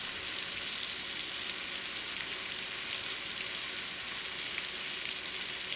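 Shrimp for lemon garlic butter shrimp fry in a single layer in a pan, a steady, dense sizzle with fine crackling that holds evenly throughout at close range, with no talking.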